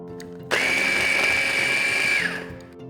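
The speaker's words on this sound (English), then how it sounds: "we're just going to add them into our food processor" A food processor chops washed, deveined shrimp for shrimp cakes, switching on with a sudden loud motor whine that holds steady for nearly two seconds, then winds down, all close and without speech.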